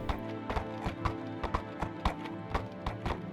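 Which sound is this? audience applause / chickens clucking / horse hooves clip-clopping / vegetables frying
horse hooves clip-clopping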